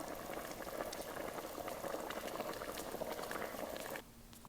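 Boiling water bubbling steadily and fairly loud as a sound effect in a film mix, with a continuous dense bubbling hiss that drops away sharply near the end.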